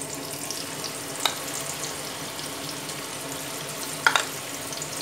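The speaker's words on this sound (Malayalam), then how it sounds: "ഈ ഉള്ളി ഫ്രൈ ചെയ്തെടുത്ത എണ്ണയിലോട്ട് ഇനി നമ്മൾ ഈ ചിക്കൻ്റെ പീസുകൾ ഇതിലോട്ട് ഇട്ട് കൊടുക്കുക." Chicken pieces frying in oil already used to fry onions, a steady soft sizzle with two brief sharp crackles or clatters standing out, no talk.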